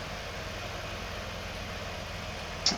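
A small tractor engine running in a realistic farming video game, a steady low idling drone throughout, with a brief high chirp near the end.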